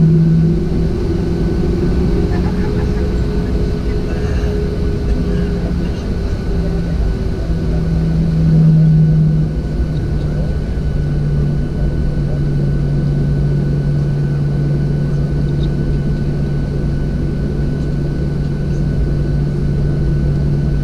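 Inside a Southwest airliner cabin during takeoff departure, a loud steady engine roar and low drone fill the space continuously with a rising tonal hum, no talk over it.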